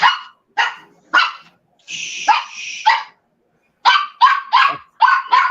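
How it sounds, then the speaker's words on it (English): A dog barks indoors, close and loud, in a rapid string of sharp barks, then a longer strained yelping bark, then another quick burst of barks, with no talking. "excuse my dog barking to someone"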